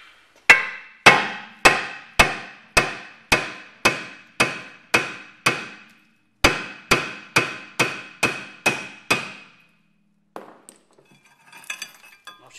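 A two-point hammer strikes a VW Golf 1.9 TDI brake disc with about sixteen sharp, ringing metallic blows in a steady rhythm, split into two runs by a short pause. Faint clattering follows at the end.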